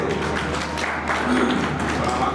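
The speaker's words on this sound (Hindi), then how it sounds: "तालियां बजाते रहिए" Audience at a literary event at a school in India applauding steadily and continuously, a dense patter of many hands at moderate loudness.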